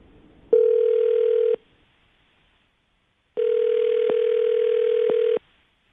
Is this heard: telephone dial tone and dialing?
yes